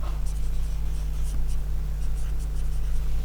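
Chalk or pen writing during an economics lecture, a run of quick close scratching and tapping strokes over a steady low room hum.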